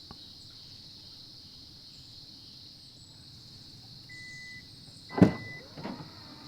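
A car tailgate opens with a single sharp click and thud followed by a softer clunk, heard over a steady high insect drone and faint birdsong in a quiet morning setting by a lake.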